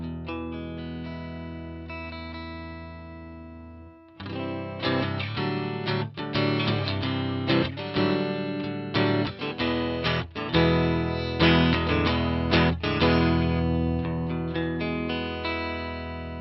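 A 1980s Peavey electric guitar played through its bright single-coil neck pickup with distortion, a held chord followed by a run of loud, sustained riffs and chords, no voices.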